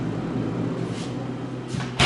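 A fridge's freezer door is opened and shut in an apartment kitchen, a low steady hum broken by a soft thud and then a sharper close at the end.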